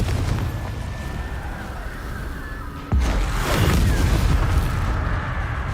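A Confringo fire spell blasts in Hogwarts Legacy: a deep, loud explosive boom bursts in about halfway through, and a rumbling roar follows and stays heavy over the rest of the moment.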